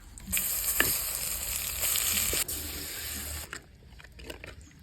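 Mustard seeds, urad dal, dried red chillies, curry leaves and ground paste hit hot oil, a loud burst of hissing, crackling sizzle that settles and fades toward the end.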